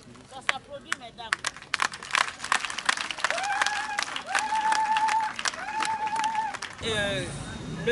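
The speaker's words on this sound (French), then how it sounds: "Ça s'applaudit, mesdames." Audience applause at a Sikensi event in 2023, a steady patter of clapping from a crowd that swells then cuts off near the end, with someone speaking over it through a microphone and music-like tones.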